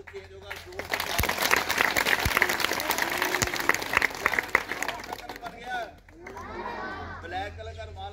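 Audience applause after a magic trick, a dense spell of clapping for several seconds that fades toward the end, with voices and chatter mixed in over it.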